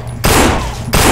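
Loud rapid gunshots from the player's weapon in the zombie game No More Room in Hell, two close bursts of fire separated by a short pause.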